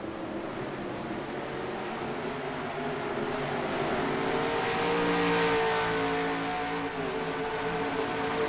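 Pack of race cars accelerating off the start at Infineon Raceway in the NR2003 racing game, a dense, sustained roar of many engines with rising and overlapping pitches that swells midway and stays loud throughout.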